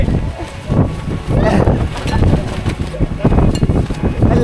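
Strong wind buffets a mountain campsite in Tagaytay, a loud, steady rumbling roar against the microphone with gusty swells, while people talk throughout.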